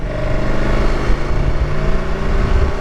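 A 2023 KTM 1290 Super Adventure S engine drones loud and close, a continuous steady motor tone with wind rush, without a clearly distinct downshift blip; no talk.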